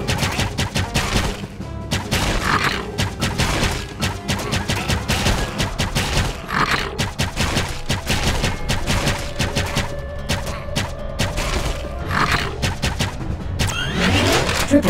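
Rapid, dense gunfire from the arcade shooter Attack of the Movies 3D, played on a Wii emulator: a continuous loud barrage of shots and blasts with game music and engine-like rumble underneath, no pauses across the whole stretch.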